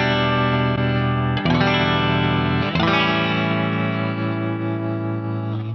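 Guitar played through a Tap-A-Whirl modulation pedal into a Dumble Overdrive Special amp sim summed to mono: sustained overdriven chords swirling with steady chorus-like warble, two fresh strums partway through, loud and alone.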